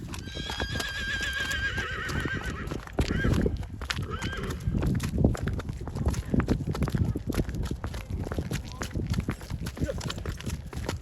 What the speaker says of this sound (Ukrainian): Так що такі коники, жеребчики, кобила, Елен і Фрезія можуть бути на продажу